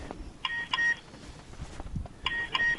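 Electronic alarm beeping near a snowy Mississauga street the day after snowfall, two short bursts of rapid high beeps separated by a quieter gap with faint background noise.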